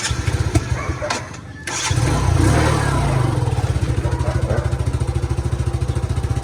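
A small motorcycle-with-sidecar engine starts up and settles into a steady, rapid putter, close by, with brief voices before it.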